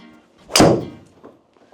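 A TaylorMade Qi35 driver strikes a golf ball with a single sharp, solid crack, close and loud, followed by a brief fading ring and faint background sounds.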